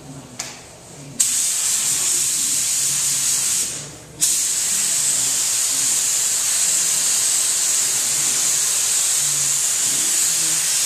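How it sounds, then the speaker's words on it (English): Paint spray gun hissing steadily while coating Triumph Daytona 700 motorcycle panels of aluminum or sheet metal, with brief pauses near the start and one short break around four seconds before the continuous loud spray resumes. "let me demonstrate here how we'll be spraying"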